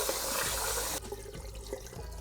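Rice for a vegan multi-grain dish is rinsed under a running tap, a loud steady rush of water that drops to a softer trickling splash after about a second; no one speaks.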